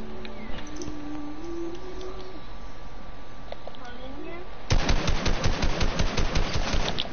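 Rapid automatic gunfire from a gun in a video game erupts partway through as a loud, dense burst of repeated shots, following quieter game ambience and a few talking voices.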